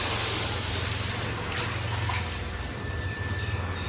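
Water draining out in a home, a steady rushing gush that holds fairly constant at moderate loudness with no talk over it.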